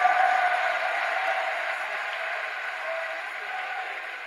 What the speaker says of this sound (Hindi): हम सबके लाडले माननीय नरेंद्र मोदी जी का जोरदार तालियों के साथ स्वागत और अभिनंदन करें।